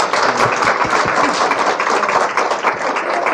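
Loud, dense applause from an audience at a book author talk, a steady wash of many hands clapping that fills the whole moment with no speech over it.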